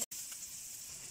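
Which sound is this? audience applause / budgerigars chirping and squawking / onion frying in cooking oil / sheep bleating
onion frying in cooking oil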